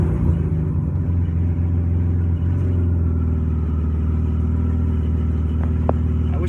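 BMW E46 engine idling steadily after a fuel filter replacement, a continuous low rumble close by with a faint brief rev near the end.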